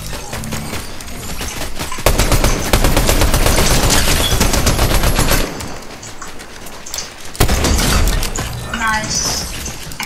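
Dense rapid gunfire in Fortnite Zero Build, loud and sustained with sharp bursts starting and stopping, voices talking under and between the shots.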